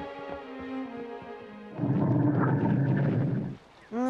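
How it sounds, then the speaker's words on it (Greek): Cartoon stomach rumbling like thunder, a deep rolling growl that swells after a tonal, music-like opening and fades out near the end, fairly loud and close. "Εύχομαι η κοιλιά σου να σταματήσει να βροντάει."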